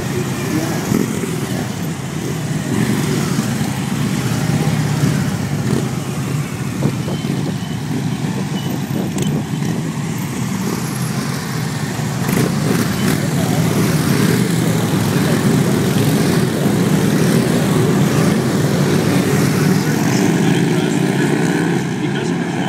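OPP Golden Helmets police motorcycles riding in a display at Stittsville, a loud continuous mix of engine rumble from several bikes, close and sustained, with a voice talking over it.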